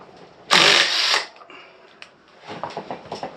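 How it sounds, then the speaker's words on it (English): Impact driver spinning off the front sprocket nut of a CFMoto 450MT motorcycle with a 32mm socket, a loud one-second burst of rattling hammering close by, followed by quieter clicks and handling noises. "I'm going to use the impact driver"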